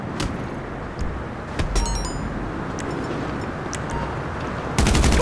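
Scattered gunshots in the video game GTA 5, a few sharp cracks over a steady rumbling background, ending in a louder rapid burst of fire.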